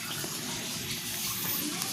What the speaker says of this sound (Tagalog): naantay ko lang yung isa pang drum na mapuno yung tubig